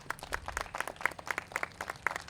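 A brief, fairly quiet round of clapping at a memorial forest vigil, individual claps distinct and irregular from a small gathering, heard alone without speech.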